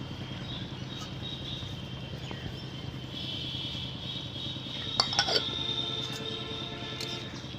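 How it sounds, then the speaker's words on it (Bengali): A spoon stirs ground spices into a thin boal fish curry in a metal pot, with soft scraping and a few sharp metallic clinks against the rim, over a low background hum. "একটু মিশিয়ে নিলাম"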